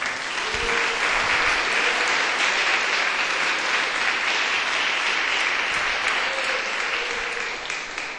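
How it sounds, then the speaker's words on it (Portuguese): A church congregation gives a round of applause for Jesus, a dense, sustained wash of many hands clapping that fills the room evenly for several seconds, with no voices over it. "Pode dar uma salva de palmas para Jesus."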